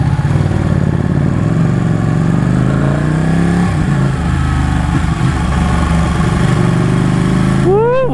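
Ducati Panigale 899 sport motorcycle engine running loud and close during a test ride, with a steady throbbing drone, rising and falling pitch as the rider revs, and a sharp climbing rev near the end; a voice talks over it.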